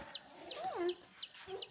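Baby chicks cheep close by in quick, high, chirping peeps, roughly five in under two seconds, with a lower chirp mixed in and a quiet background.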